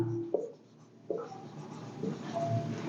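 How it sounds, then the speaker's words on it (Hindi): Chalk or marker scratching out a sentence on a classroom board, in short strokes with pauses between them, fairly faint, with no talk over it. "उसके बाद सब्जेक्ट लिखेंगे मोना"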